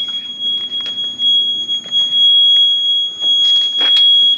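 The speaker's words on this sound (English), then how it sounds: "Turn this to the start position and the machine will beep." A CTE Traccess 230 aerial lift's start-up beep: a high electronic tone sounds steadily beside a faint outdoor background, with a few scattered clicks and brief bursts of noise.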